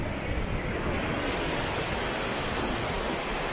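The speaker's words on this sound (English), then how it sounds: "There's a view of the other side where it's the water's getting stemmed through the dam." River Clyde water pouring through a dam near the Falls of Clyde at New Lanark: a steady, loud, unbroken rush that fills the whole stretch with no voices.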